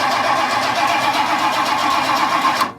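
A 1964 Ford Thunderbird's starter cranks the engine in one steady, loud, continuous whir lasting nearly three seconds, then cuts off abruptly.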